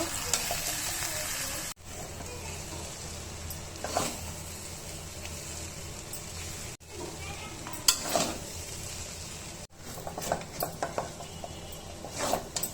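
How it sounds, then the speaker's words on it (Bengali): A steady sizzle of rice, beef and potatoes frying in a pan for beef tehari, broken by repeated scraping and stirring strokes of a spoon against metal. Close and continuous. "এখন গোস্তের সাথে চালগুলো ভালোভাবে আমি কষিয়ে ভাজা ভাজা করে নিব।"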